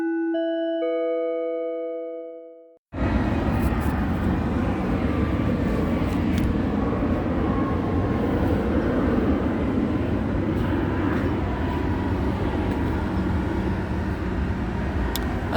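Airplane passing overhead near Ontario International Airport, a loud, continuous broadband roar sustained throughout after a brief tonal chime-like sound at the start, with no talking.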